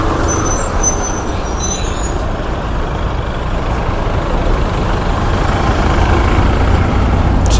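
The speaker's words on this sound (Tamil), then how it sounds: "செம டிராஃபிக் போல்." Dense, heavy road traffic rumbles loud and close on a highway in India, with trucks and buses grinding past in a continuous roar and a faint air-brake hiss near the start.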